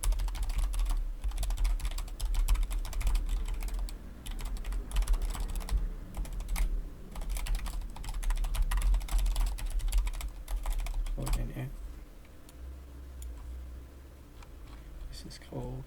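Rapid, steady typing on a computer keyboard with dense clicking keystrokes and brief pauses, close to the microphone, continuing almost throughout and easing off near the end.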